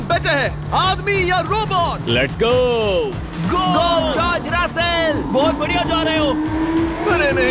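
A race car engine drones and climbs in pitch beneath excited talking, its tone rising steadily toward the end.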